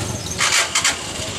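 The electric starter of a TMX Alpha 125 motorcycle cranks in two short bursts, a whirring grind close by, without the engine catching.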